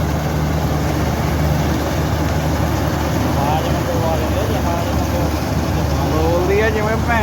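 A wheat harvesting machine's engine drones loud and continuous in the field, a broad unbroken roar, with a voice talking over it.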